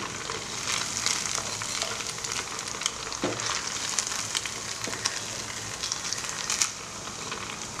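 Ghewar fries in hot ghee, a dense, steady crackling hiss with occasional sharper pops, heard close and alone.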